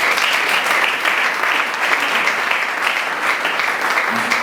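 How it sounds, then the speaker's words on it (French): A congregation at a memorial vigil breaks into sustained applause, a dense, steady wash of clapping from many hands that holds at an even level throughout. "Est-ce qu'on peut acclamer les Seigneurs?"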